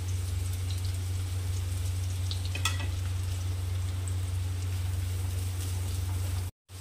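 Sliced onions fry in two spoons of oil in a kadhai, giving a soft, even sizzling hiss with a single sharp clink partway through, over a low steady electrical hum and no talk.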